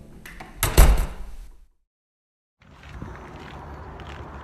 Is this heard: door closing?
yes